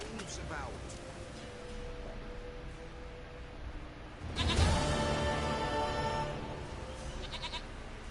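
A goat in The Witcher 3 bleats near the start, then gives a louder, drawn-out bleat midway, while someone speaks over a quiet outdoor ambience.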